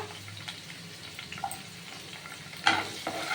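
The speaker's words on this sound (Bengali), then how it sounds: "এই তেল দিয়ে দিয়েছি জিরে সোমবারা দিয়ে দিলাম আর দেব এই কাঁচা লঙ্কা" Cumin and green chillies fry in hot oil in a wok, a soft steady sizzle with a few light scrapes, and a brief louder burst of crackling near the end.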